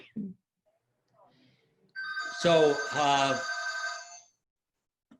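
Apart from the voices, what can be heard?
telephone ringing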